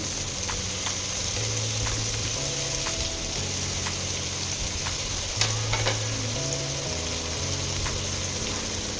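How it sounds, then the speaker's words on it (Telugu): Onions frying in hot oil in a kadai, a dense, even sizzle that stays loud and constant throughout, with a low background hum and occasional faint clicks. "ఇప్పుడు ఆనియన్స్ కూడా వేసుకుని ఫ్రై చేసుకుందాము"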